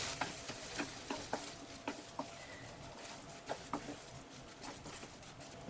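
Chopped apple being stirred with coconut and sugar in a pan over the flame, with soft scattered scraping taps of the spoon over a low sizzle, close and fairly quiet.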